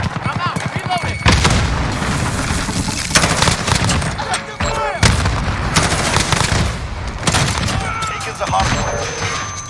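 Frag grenade blasts and rapid gunfire from a Call of Duty: Modern Warfare multiplayer Hardpoint match, with dense, loud bursts of shots and booming impacts throughout, broken by sharp explosive hits, and game voice callouts mixed into the chaos.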